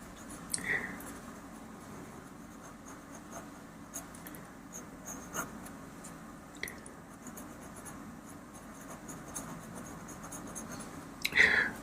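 A pastel pencil shades with grey across blue paper, making faint, soft scratchy strokes that repeat through a quiet room, with a few slightly louder rubs near the start and end.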